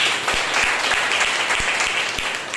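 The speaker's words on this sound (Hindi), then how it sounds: "एक बार जोरदार तालियां परमेश्वर को।" A congregation at a Sunday morning church service claps together in loud, dense applause, with a few sharper individual claps standing out in the steady, close crowd sound.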